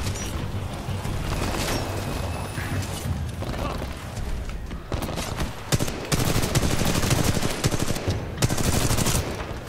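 Dense automatic gunfire in the video game Titanfall, rapid loud bursts of machine-gun fire nearly continuous across the clip, with brief lulls and mechanical clanks between volleys.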